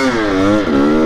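Motorcycle engine revving as the rider works an unfamiliar clutch, a close, loud buzzing drone that dips and rises again in pitch over about a second.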